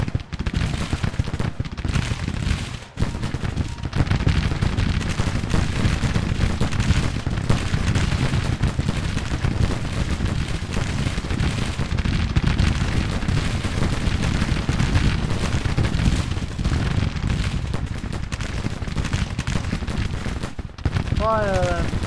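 A Civil War battle in a video game: dense musket gunfire and artillery crackle and thump continuously, loud and close, with bursts overlapping throughout and a short lull near the start.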